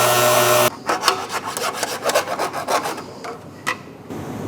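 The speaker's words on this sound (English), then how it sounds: "Take my DA and clean up that edge." A dual action sander works the fabricated aluminum edge of a handmade Chevelle chin spoiler, giving a rough rasping buzz in uneven close strokes after a brief steady hum at the start.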